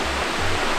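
Hemlock Falls in Cloudland Canyon pours as a steady, dense rush of falling water, heard close and loud in a brief burst with no voices.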